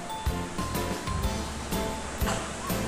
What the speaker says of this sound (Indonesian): Jembong Waterfall Air Terjun Jembong ya.